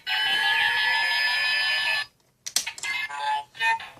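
Kamen Rider Fourze Driver toy belt's henshin transformation sequence: a loud, steady electronic alarm-like standby tone for two seconds, a brief pause, then a burst of clicks and stuttering electronic effects up close.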